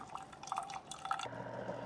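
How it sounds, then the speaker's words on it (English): A Keurig K-Express coffee maker brews a vinegar and water descaling cycle, with faint trickling and dripping liquid falling into a cup, soft and close with a low steady hum underneath. "it brewed 10 ounces of the vinegar and water through"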